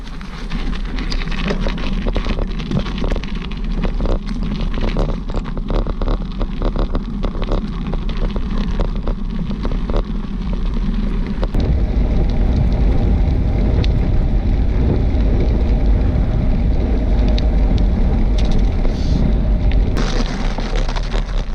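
Mountain bike ride recorded from a handlebar-mounted action camera: continuous loud rumbling wind and trail noise with rattling bumps, growing heavier and more buffeted partway through.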